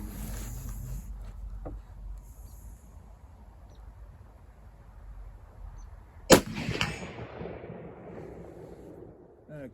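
A single sharp crack from a Marlin 336 lever-action .30-30 rifle fired outdoors at a 240-yard target rings out after several seconds of quiet, then trails into a fading echo.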